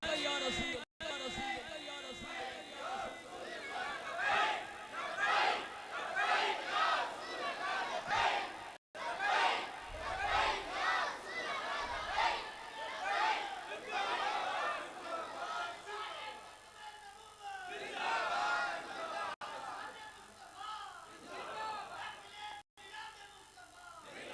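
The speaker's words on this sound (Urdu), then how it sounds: "تسی نعرے مارو تے ہاتھ چوک کے مارو لبیک لبیک یا رسول اللہ" A large crowd at a Mahfil-e-Milad gathering chants religious slogans in loud, rhythmic waves, voices massed together and sustained with brief pauses, filling the space close and dense throughout.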